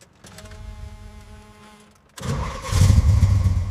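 A rebuilt 327 V8 in a 1967 Chevrolet Impala starts after a brief starter crank, catching with a sudden roar that settles into a loud, rumbling idle close by.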